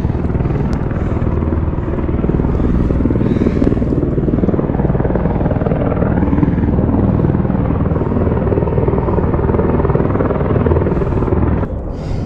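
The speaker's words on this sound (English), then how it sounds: "There's a helicopter rescue going on." Rescue helicopter flying near Mount Whitney, a steady loud rotor thump and engine drone that continues throughout without a break.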